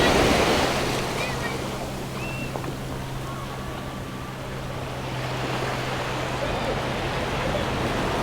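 Surf at a Miami beach rolls and washes in a steady broad hiss, with wind buffeting the microphone throughout and a faint low hum underneath.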